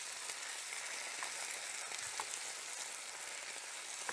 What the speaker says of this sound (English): when the oil's hot, ask your grown-up helper to pop in the potatoes and the onion